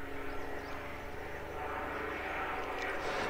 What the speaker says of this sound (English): There's a chopper going by, so I stop for a second.